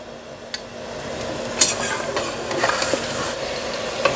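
Meat being fried bhuna-style in a pot for haleem, with the heat turned up, giving a steady close sizzle, ongoing stirring scrapes and a few sharp clinks of the spoon against the pot, no voices.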